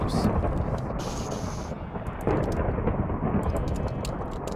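A low, rolling rumble of video game thunder with lightning over steady rain-like noise, continuous and fairly loud, with brief brighter bursts near the start.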